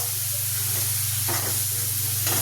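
Moong dal frying in spices in a pan, a steady close sizzle with a couple of short stirring scrapes, with no talking.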